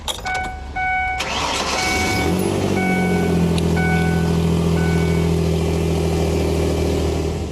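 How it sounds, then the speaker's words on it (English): Truck engine cranks with a few rapid whirring turns, catches, then settles into a loud, steady idle that runs on close by, with no talk over it. "Now we're going to start the engine on my truck, which is the good battery, and let it run for 2 minutes."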